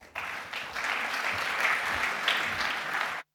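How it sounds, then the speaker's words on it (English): An audience applauding at the opening ceremony of the ADEA 2022 Triennale: a full, even wash of clapping from a large hall that swells in quickly, holds for about three seconds, then cuts off abruptly. "Sous vos applaudissements, s'il vous plaît."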